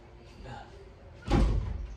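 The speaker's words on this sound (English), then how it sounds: "Let me go close this door." A door closes with a single loud thud and brief rattle about two-thirds of the way through, following quieter room noise and shuffling.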